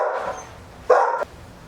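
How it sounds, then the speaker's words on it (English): A dog barks twice in the background of a room, two short, moderately loud woofs about 0.8 seconds apart, the second sharper and louder. "it wouldn't be the big dog command room without a dog barking in the background"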